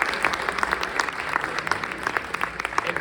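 Audience at a Minisink Valley Board of Education meeting gives a hearty round of applause for the Minisink Motivates group, with brisk, crisp clapping that holds steady and loud from start to finish.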